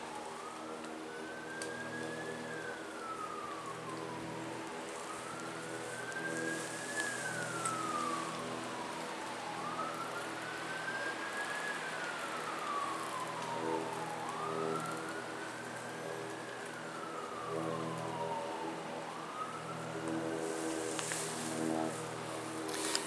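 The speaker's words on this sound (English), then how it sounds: "Now I hear some sirens too" A wailing siren rises and falls slowly in long repeating sweeps, distant and fairly faint over a steady background hum.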